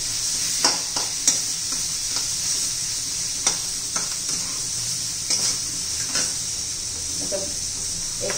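Onion and capsicum sabzi with coriander powder and red chilli is stirred in a pan, a constant bright hiss of frying punctuated by irregular spoon scrapes and knocks against the metal.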